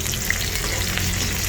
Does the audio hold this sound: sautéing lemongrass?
yes